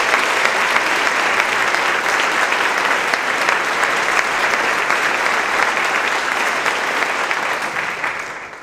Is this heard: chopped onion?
no